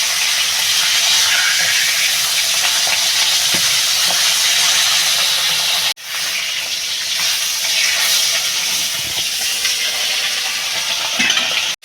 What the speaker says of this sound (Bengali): মাছগুলো বন্ধুরা লাল লাল করে ভেজে নেবো